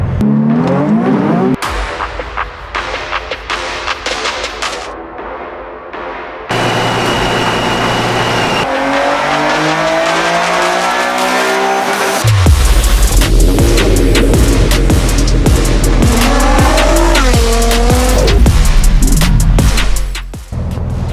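A turbocharged 2009 Nissan 370Z with a twin-turbo kit and a BMW DCT transmission drives hard, its loud engine note climbing and dropping through gear changes, heard up close from inside the car.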